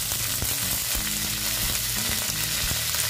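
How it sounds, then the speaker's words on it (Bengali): Mustard seeds and curry leaves crackle and sizzle in hot oil in a pan, a loud, steady frying hiss with scattered pops throughout, close and alone. "এবার আমি দিচ্ছি দেখো কিছু সর্ষে ফোড়ন দিলাম, তারপরে দিচ্ছি কারি পাতা"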